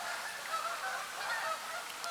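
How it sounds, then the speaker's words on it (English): Geese honk while flying overhead on a calm evening outdoors during a whitetail bow hunt, the calls faint and distant over a quiet background hiss. "Geese are flying."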